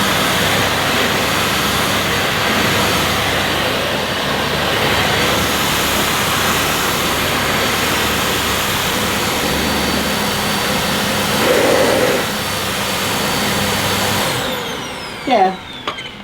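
A Dyson vacuum cleaner runs over carpet samples with a loud, steady motor roar and a slight change in tone partway through, then cuts off near the end followed by a couple of brief knocks.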